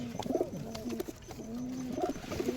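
Giribaz pigeons cooing up close, several rolling, throaty coos that rise and fall in repeated phrases, clear and alone without speech.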